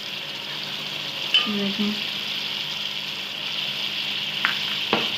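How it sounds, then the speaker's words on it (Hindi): Garlic ginger paste hits hot oil for beef nehari, giving a steady, soft sizzle and fry hiss near the pot, with a few stirring knocks and a brief word of speech. "ये मैं लहसुन अदरक का पेस्ट इसके अंदर ऐड कर रही हूँ, जो मैंने ग्राइंडर किया था।"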